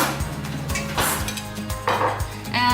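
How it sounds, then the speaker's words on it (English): A spoon handled among dishes, with a few light clinks and scrapes over a steady background hum, close by and without talk. "Getting a new spoon."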